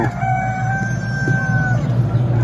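Poultry farm building full of chicks and hens, with a dense, steady chorus of clucking and cheeping and a few drawn-out crowing calls rising above it, loud and close throughout.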